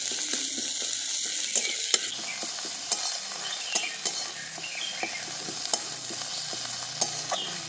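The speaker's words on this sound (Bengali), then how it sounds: "মশলাটা ভালো করে ভাজা ভাজা করে নিয়েছি, আদা পেঁয়াজ রসুনের কাঁচা গন্ধটাও চলে গেছে।" Ginger, garlic and green chili masala fries in a pan with a constant close hiss of sizzling, punctuated by repeated scraping stirs of a spoon at an irregular rhythm, with no talking.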